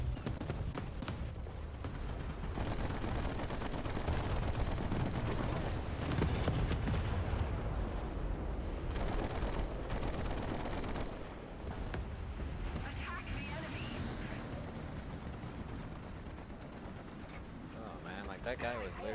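Heavy artillery fire and explosions rumble through a Fallout 76 battle, dense and sustained with loud booming bursts, under ongoing talk.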